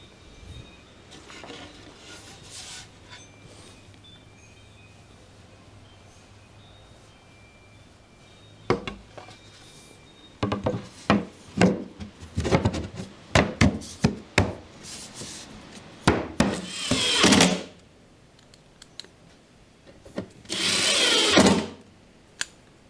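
A wooden front board is fitted onto a large 5-cubic-foot speaker box without a gasket: after a quiet stretch come a series of close wooden knocks, thumps and scraping shuffles, ending in two longer rubbing bursts.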